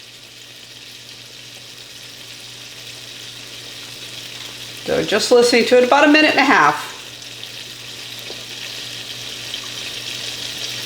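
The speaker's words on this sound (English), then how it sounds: "we got a fairly heavy sizzling sound of the water" A sunny-side-up egg fries in a pan, giving off a steady, even sizzle that runs through the whole stretch, with a voice briefly talking over it midway.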